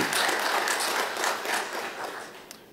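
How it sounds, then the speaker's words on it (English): Attendees at a Montgomery County, Tennessee commission meeting applaud guests including the garrison commander, a dense, moderately loud burst of clapping from a room crowd that gradually tapers off. "If y'all want to give them a round of applause for being here tonight."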